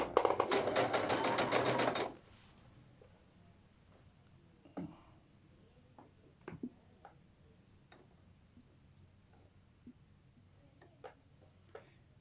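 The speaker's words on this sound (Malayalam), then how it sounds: "മടക്കിയിട്ട് തുന്നിയാലുണ്ടല്ലേ നിങ്ങൾക്ക് ഫിനിഷിങ് കിട്ടും" Sewing machine stitching a folded petticoat hem, a dense rapid run of needle strokes for about two seconds, then it stops, leaving a quiet room with scattered faint clicks.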